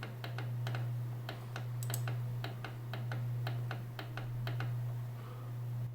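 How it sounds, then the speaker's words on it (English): Middle button of a HyperX Pulsefire Haste gaming mouse clicked repeatedly, around fifteen sharp, close ticks in an irregular rhythm over a constant low hum, with no talking. "Middle click."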